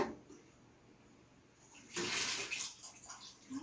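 Water collected while waxing a house floor is poured out into a bucket: a brief low trickle first, then a louder splashing gush in the second half, close by, with no talking.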